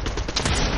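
Brief burst of rapid gunfire in Fortnite, loud and dense automatic shots packed into under a second.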